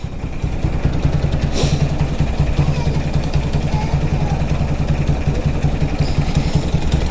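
Close up, a motorcycle engine idles with an abnormal noise, giving a steady, loud, even rumble for about seven seconds. A brief sharper burst breaks in near the start.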